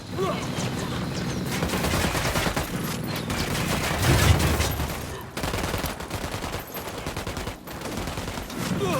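Sustained bursts of automatic gunfire in the Ghost Recon Wildlands shooter, dense and loud with rapid overlapping shots and short gaps between volleys.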